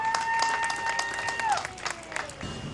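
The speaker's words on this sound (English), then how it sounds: "Let's give her a round of applause." A crowd applauds and cheers outdoors at a Berwyn, Illinois National Night Out community event, greeting a singer before the national anthem; dense clapping runs throughout the short burst, with a sustained whistle-like tone over the first half.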